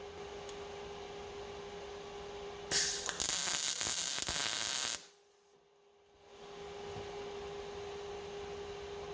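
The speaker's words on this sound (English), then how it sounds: "settings dialed in here so I get a nice hot plug weld on this section without burning through it" A MIG welder lays a plug weld on the door of a 1974 Chevy K5 Blazer during a cracked striker repair: a loud, steady crackling burst of about two seconds, heard alone, then dropping into near silence.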